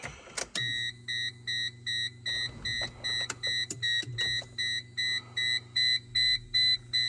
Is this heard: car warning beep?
yes